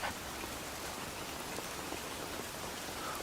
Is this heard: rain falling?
yes